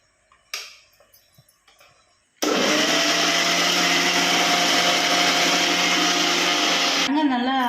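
A blender grinds mango for homemade mango ice cream, starting abruptly after a few faint kitchen knocks and running loud and steady for about five seconds before cutting off.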